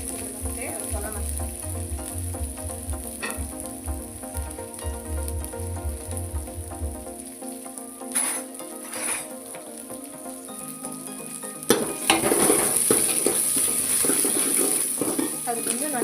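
Onion, green chilli and curry leaves hitting hot oil in a pan for bottle gourd curry: a continuous sizzle with some pan clatter, rising sharply near the end as frying intensifies, with talk over the cooking.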